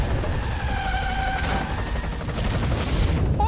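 Explosions and crashes in the racing video game Split/Second, a dense, loud barrage of booms and bangs with engine whine underneath, continuous across the short stretch.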